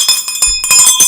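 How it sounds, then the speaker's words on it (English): A bright notification bell sound effect rings out in several quick, loud chimes with sustained ringing tones, with no voices. "Hit the notification bell so that you're warned that we're coming at you."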